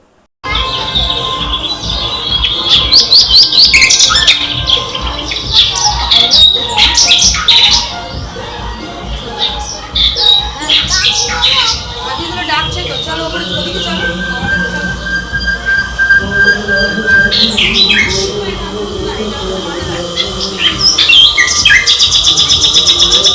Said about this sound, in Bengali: এখানে হচ্ছে তোমার পাখির আওয়াজ শোনা যাচ্ছে